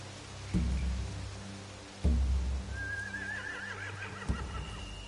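A horse in The Walking Dead: The Final Season video game whinnies with a wavering high neigh, preceded by a few dull thumps and a low background rumble.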